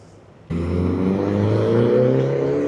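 A Honda Civic Type R FL5 drives past at the Daikoku parking area. Its loud, steady engine note comes in abruptly after a quiet half-second and holds close and even to the end.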